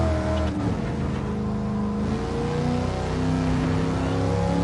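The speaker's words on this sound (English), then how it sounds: "listen to that LS1 that I believe is an LS1" A Pontiac Firebird Trans Am with an LS1 V8 in the Gran Turismo 7 video game revs loudly and steadily, engine pitch climbing and shifting under acceleration, with no talk.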